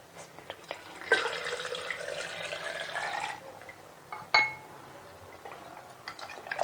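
Boiled water poured into a jar of Punjabi-style turnip pickle makes a steady splashing stream lasting about two seconds. Glassy clinks follow, then a sharp knock against the jar, all close by and quiet, with no voices.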